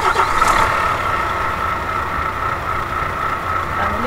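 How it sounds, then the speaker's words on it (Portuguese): A Volvo truck engine in Euro Truck Simulator 2 idles steadily with a low rumbling drone, close and continuous, with no other sounds. "vai ter que ligar o caminhão primeiro"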